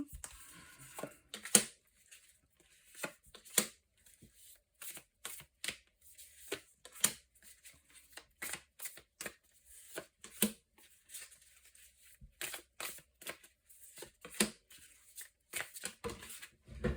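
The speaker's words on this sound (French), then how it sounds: "je vais remettre une carte sur chaque carte précédemment" Playing cards laid one by one onto earlier cards during a tarot-style spread, giving soft, close card slaps and shuffles spaced irregularly over a quiet background.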